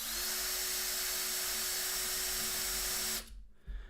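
Drill spinning a roller on a coin wrapper, a steady loud high-pitched whine lasting about three seconds before stopping abruptly, followed by brief faint handling noise.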